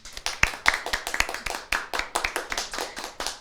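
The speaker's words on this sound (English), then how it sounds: "Let's give them another round of applause." Sparse applause at an awards closing ceremony: a few people clapping in an uneven rhythm of separate, distinct claps, close and moderately loud, heard alone.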